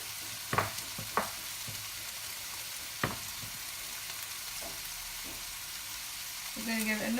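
A filling with cheese fries in a pan as it gets mixed, a steady close sizzle broken by a few sharp scraping and stirring knocks, with a brief clatter near the end.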